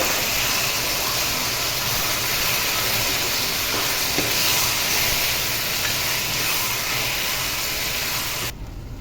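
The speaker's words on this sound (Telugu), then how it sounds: "ఇప్పుడు మనము జోం పచ్చడి వేసుకోవాలండి ఇప్పుడు ఒకసారి కలుపుకోవాలి" Okra jom chutney stirred in a hot pan for a ragi mudda meal, giving a loud, steady broadband sizzle and hiss that runs unbroken for several seconds before dropping away at the very end.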